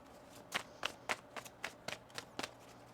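Tarot cards are shuffled by hand in a quick, faint run of about nine soft, crisp flutters and snaps, close to the microphone, with no talking.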